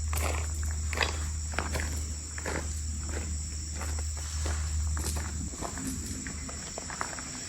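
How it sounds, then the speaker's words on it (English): Crickets chirring in quiet woods at an Ohio state park, a faint steady high trill under crisp footsteps that crunch along a trail in a regular walking rhythm. "I hear a faraway bird and some crickets."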